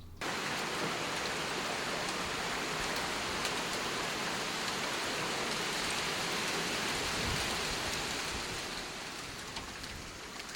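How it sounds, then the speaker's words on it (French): Steady, heavy rain pours down continuously, a dense hiss of drops that eases slightly toward the end. "Il pleut."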